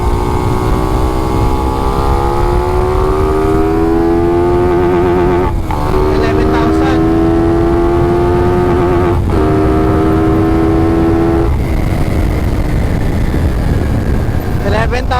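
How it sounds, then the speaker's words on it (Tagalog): A Suzuki Raider Fi 150 motorcycle with a stock elbow pipe revs hard toward its RPM limit, the loud engine tone climbing steadily and then dropping sharply at several shifts or limiter cuts, close by and sustained. "Subukan natin kung ilang RPM yung limit ng motor natin."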